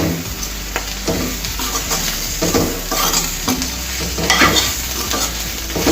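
Onion and bitter gourd fry being stirred in a pan, a continuous close sizzle with repeated scraping and spatula strokes against the pan at an irregular rhythm.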